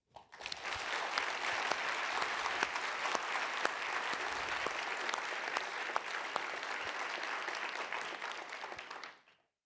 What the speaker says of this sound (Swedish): Ska vi inte ge dem en stor applåd?